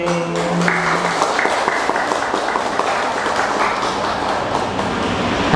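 A large audience at a temple in Da Nang claps loudly after a song, a dense continuous patter of applause held steady from start to finish.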